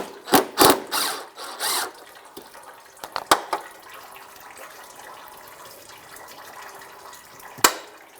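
Socket ratchet clicking while loosening the lower radiator hose clamp on a 2004-2009 Subaru Outback, using an 8mm socket; a few short bursts of ratcheting near the start, then sparse clicks and handling noises close by.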